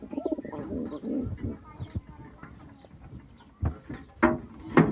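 Domestic pigeons coo close by in bursts of low, throaty rolling calls, alongside scattered chirps and shuffling, growing louder toward the end.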